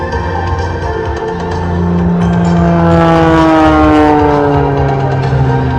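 Engine of an Oracle Challenger III radio-control aerobatic airplane at an air show, a loud continuous drone whose pitch sweeps and rises as it tumbles, swelling louder midway with no voices.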